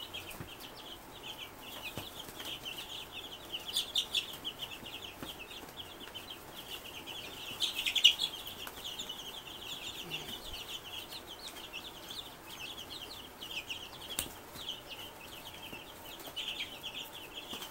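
A brood of baby egg-laying chicks about two and a half weeks old keeps up constant high peeping and cheeping, soft and close, with occasional louder chirps and no talking.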